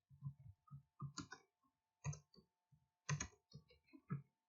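Typing on a computer keyboard while entering slide text in Microsoft PowerPoint: sparse, separate keystrokes in small uneven clusters, close and quiet over a faint steady hum.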